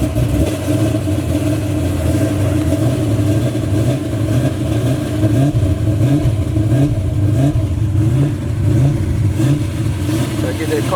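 A Chevy truck engine with a carburetor revs steadily for several seconds, a loud continuous rumble with rising and falling throttle swells, close by and alone.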